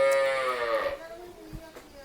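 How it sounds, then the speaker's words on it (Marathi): A black Kapila or Gir cow gives one long, deep moo at close range that fades out after about a second, leaving low farmyard background noise. "गाय पाहू शकता एकदम शांत स्वभावाची गाय आहे."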